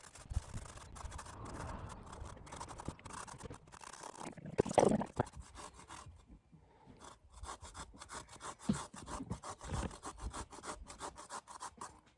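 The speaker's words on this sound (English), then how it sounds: "So who knew about grating a papaya?" Papaya being grated by hand at a campsite for chicken and papaya larb, a steady rasping scrape of back-and-forth strokes, close and fairly quiet, with a brief louder scuffle midway.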